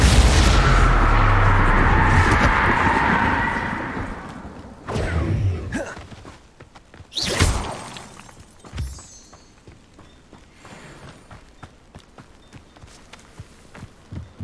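A Confringo fire spell from Hogwarts Legacy bursts in a loud, sustained rumbling roar that fades, followed by several sharper booms and blasts, then softer scattered thuds and footsteps.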